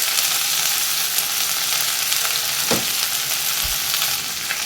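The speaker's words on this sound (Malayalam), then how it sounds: "ഇനി ഇത് നമുക്ക് ഇളക്കിയിട്ട് ഈ ഇല നല്ലതുപോലെ ഒന്ന് വാട്ടിയെടുക്കണം" Fresh fenugreek leaves sauté in a hot pan with a steady loud sizzle, broken by a couple of sharp scraping stirs from a spoon; nobody speaks.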